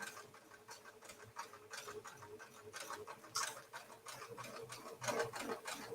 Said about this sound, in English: So I flip my template over, and I'm going to stitch the entire pattern again.